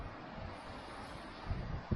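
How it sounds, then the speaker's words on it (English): Gusty wind buffets the microphone outdoors while a quadcopter hovers and hops nearby, a steady broadband rush with low thumps growing stronger toward the end. "Oh, it's very windy guys."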